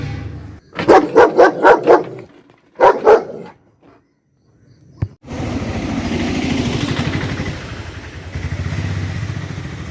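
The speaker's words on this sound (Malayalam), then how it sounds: "വീട്ടിൽ വളർത്തിയിരുന്ന ജർമ്മൻ ഷെപ്പേർഡ് ലോങ് കോട്ട് ബ്രീഡിലുള്ള ഒരു" A long-coat German Shepherd barks loudly nearby in a quick burst of about six barks, then a pair more after a pause, followed by a motorcycle-like engine rumble idling steadily in the background.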